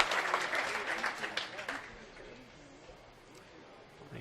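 Bowling crowd applauding a big cover at a senior stepladder final in Las Vegas, a burst of clapping loud at first then thinning away after about two seconds.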